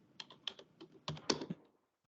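Typing on a computer keyboard, a quick burst of about a dozen close, clear keystrokes in an irregular rhythm that ends abruptly in quiet.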